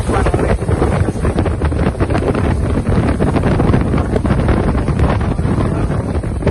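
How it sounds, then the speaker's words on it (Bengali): A strong storm wind with rain in Johor Bahru roars and gusts continuously against the microphone, a dense, loud rushing wash with no pauses. "আর তুফান অনেক"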